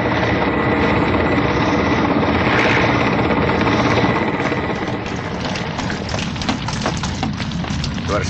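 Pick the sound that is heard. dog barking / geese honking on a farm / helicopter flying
helicopter flying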